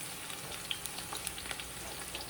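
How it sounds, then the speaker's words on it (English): Spinach fries in a pan with Salone masala seasoning, giving a constant soft hiss with faint scattered pops, close by and fairly quiet. "It's already getting soft. So we let it fry a little bit."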